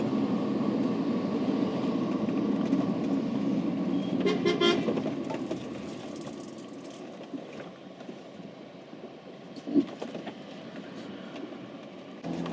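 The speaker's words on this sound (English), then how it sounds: "Had to almost run off the road to let the bus get by." A bus passes a van on a narrow mountain road in the Italian Dolomites, heard as a loud rumbling engine with a horn toot from inside the van, fading into road noise.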